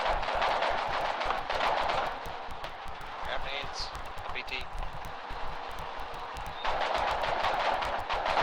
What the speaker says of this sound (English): Yeah, there is a lot of gunfire.